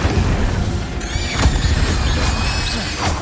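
Incendio fire spell blasts in the Hogwarts Legacy video game, a dense barrage of booming bursts and crackling impacts over continuous combat noise, with sharp peaks recurring through the fight.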